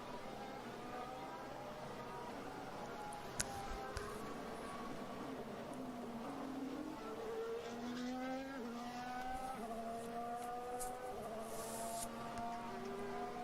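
Formula 1 Ferrari cars on track at the Bahrain Grand Prix practice session: high-pitched engine whines rise and fall as cars pass at a distance, overlapping steadily under a faint background roar.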